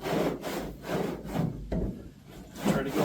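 Rhythmic abrasive rubbing, back-and-forth sanding block strokes scraping over a car body panel, about six passes, close up with no talking.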